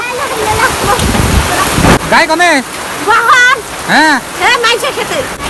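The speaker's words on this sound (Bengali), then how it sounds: "দেখেন আমাদের এখানে ঝড় বৃষ্টি আছে" Heavy rain in a fierce storm with strong swirling wind, a dense steady roar of downpour close by throughout, with a voice speaking and chanting loudly over it.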